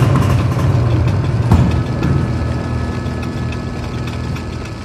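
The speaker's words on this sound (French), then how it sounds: "La machine commence à faire du bruit, tandis que l'homme baisse ses bras. Le bruit est infernal." A machine in a radio drama grinds loudly and steadily, a constant rumbling mechanical drone with a brief clank near the start, close and unbroken for several seconds.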